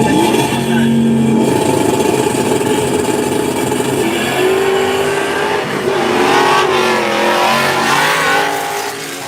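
A manual-transmission no-prep drag race car running on nitrous roars loudly as it accelerates down the strip, the engine note climbing through gear changes with faint tire noise.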